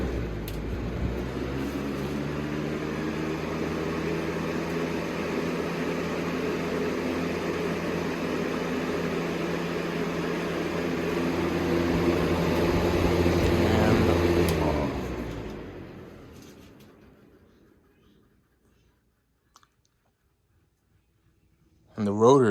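A Holmes or Lakewood box fan runs on high speed with a steady, broad whoosh and a low motor hum. Its pitch drops as it spins down, ending in near silence and a brief thump.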